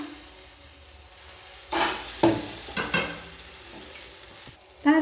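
Wheat flour batter for patisapta sizzles in a lightly oiled pan, with sudden bursts of frying as spoonfuls go in, followed by a steady, close crackle and soft scraping.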